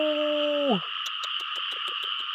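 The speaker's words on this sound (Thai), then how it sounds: "นั่นนั่นแหละกบขู่บ่" A frog caught during a night frog hunt gives a run of quick rhythmic croaking pulses, close and clear, over a steady high background drone.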